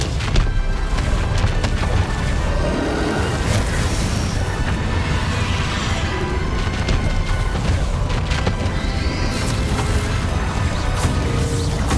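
Confringo fire spell blasts in Hogwarts Legacy, a dense run of booming, crashing explosions and impacts packed one after another at steady loudness over continuous game noise.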